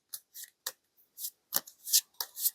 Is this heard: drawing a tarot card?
yes